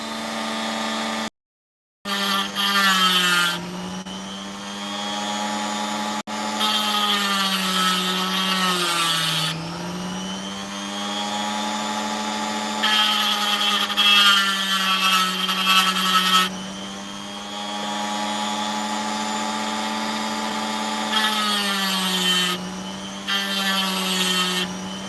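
A power tool grinding and sharpening the edges of an opal, giving a loud steady whine that dips and rises in pitch as the stone is pressed against it, continuous throughout with no talk.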